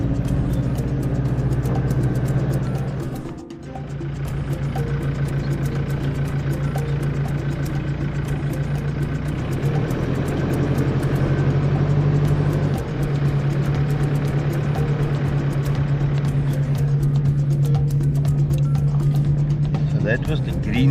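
Vehicle engine droning steadily while driving slowly through a small, basic village in the Khwai area of Botswana, a continuous mid-pitched hum throughout with people talking over it.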